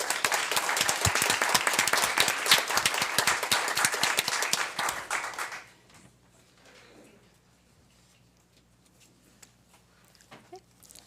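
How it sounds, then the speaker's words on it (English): Board of education meeting audience applauding, a dense burst of clapping for about five seconds that stops abruptly, leaving a quiet room with faint shuffling and small knocks. "I'd like to give another round of applause for Ms."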